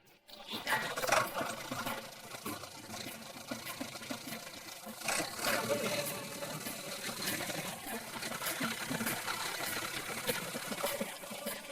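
A tractor engine runs with a steady mechanical chugging hum at moderate volume, continuous and even throughout with no clear speech over it.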